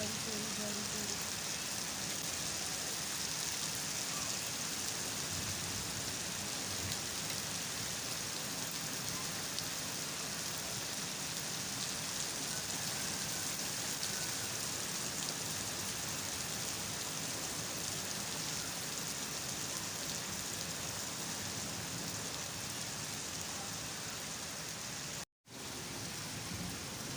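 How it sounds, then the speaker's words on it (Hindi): Steady rain falls in Lahore as a continuous broadband hiss, close and even for nearly the whole stretch, with a brief dropout near the end. "बारिश हो रही बारिश हो रही।"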